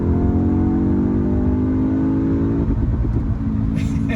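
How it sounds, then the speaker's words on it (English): Audi S3 sedan engine revving hard under acceleration, a loud, steady climbing drone toward the rev limiter, close and continuous, with a brief shift-like dip near the end. "The car will actually let you redline and bang off the limiter."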